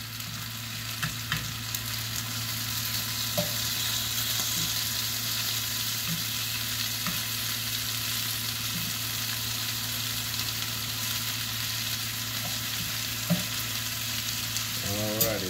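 Cheesy potatoes and bacon fry in a skillet with a steady, close sizzle and crackle, broken by occasional soft clicks and scrapes from a utensil, and no talking.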